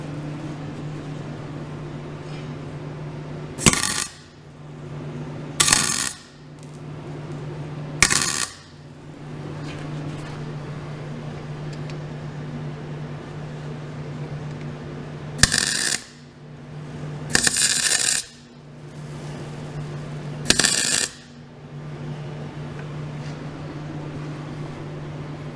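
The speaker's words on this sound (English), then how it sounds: "Don't mind my welder. It's getting a little old and cranky." An old, roughly 20-year-old welder works on a broken Boss V-plow, with short loud crackling bursts of arc welding repeating at irregular intervals over a constant low electrical hum.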